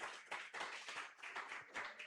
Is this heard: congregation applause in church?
yes